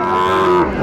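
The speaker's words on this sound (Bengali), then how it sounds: "শাহিওয়ালের ষাঁড় বাচ্চা আমরা দেখছিলাম।" A Sahiwal bull calf at a cattle market lets out one loud, close, sustained moo lasting nearly a second.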